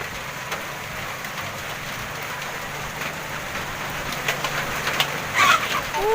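Steady rain falls on surfaces in a broad, even hiss close by, with a few bird calls and cooing toward the end.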